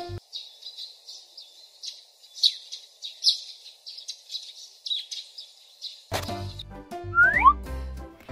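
Macaws call in a run of thin, high chirping and whistling notes repeated steadily for several seconds, then give way abruptly to a fuller, louder burst of sound near the end.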